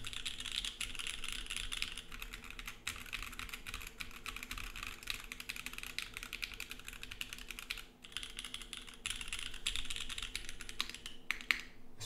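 Steady mechanical keyboard typing on a Monokei Kohaku, with continuous rapid clacking keystrokes throughout, close and fairly loud, with no talking.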